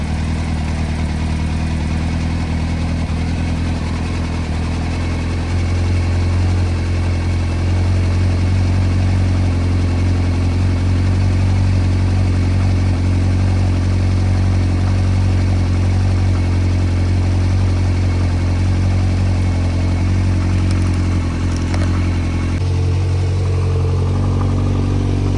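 A Kawasaki Z900 motorcycle engine idles steadily and loudly up close just after starting, a low continuous rumble that holds for the whole stretch, with no talking.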